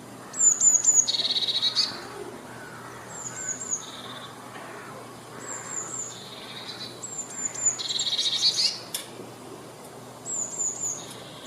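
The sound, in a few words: blue tit calling on a fence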